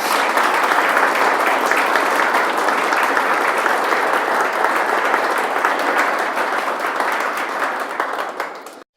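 A large church congregation applauds steadily for several seconds, a dense, loud wash of clapping that holds even before fading out at the end.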